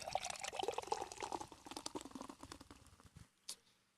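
Walmart seltzer water is poured into a glass at close range, a gurgling, fizzing stream that fades into settling bubbles and a last small clink, quiet and without voices.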